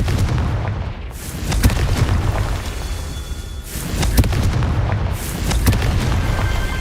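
Confringo spell blasts in the video game Hogwarts Legacy, a series of loud booming explosive bursts over a dense rumbling game soundscape, several impacts spaced a second or two apart.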